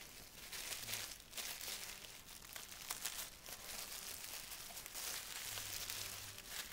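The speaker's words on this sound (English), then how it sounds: "So I just wrap this up one time and tape it with a little piece of tape." Packing paper crinkles and rustles steadily around a fragile clock as it is wrapped for shipping, with brief tearing sounds as tape comes off, close and continuous with no talking.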